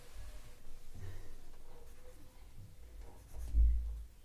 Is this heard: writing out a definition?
yes